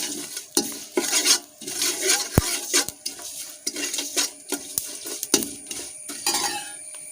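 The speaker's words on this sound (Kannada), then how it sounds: "ಇದನ್ನು ಕೂಡ ನಾವು ಸ್ವಲ್ಪ ಎಣ್ಣೆಯಲ್ಲಿ ಫ್ರೈ ಮಾಡಿಕೊಳ್ಬೇಕು" Sesame seeds fry in a little oil in a pan, a light crackling sizzle broken by repeated clinks and scrapes of a spoon stirring against the metal.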